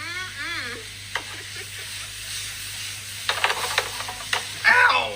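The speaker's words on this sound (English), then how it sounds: "We're gonna cook our shrimp." Shrimp frying in a pan on a home stovetop, a steady soft sizzle with occasional stirring clatters and brief scraping bursts, heard close up with no talk.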